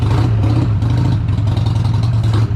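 A Harley-Davidson motorcycle engine with a CV carburetor, running slightly rich, revs close and loud with a steady, throbbing low drone and no talk over it.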